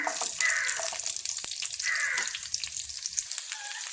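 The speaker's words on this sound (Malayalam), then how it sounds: "ഇതിലേക്ക് ഒരു സവാള അരിഞ്ഞത് ചേർത്ത് കൊടുക്കാം." Chopped onion sizzles and fries in a hot pan while being stirred, a close, crackling hiss with occasional spoon scrapes and no talking.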